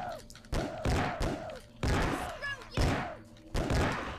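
Pistol gunshots in the horror video game Obscure, a rapid series of loud booming shots roughly every half second with echoing tails, close and heavy.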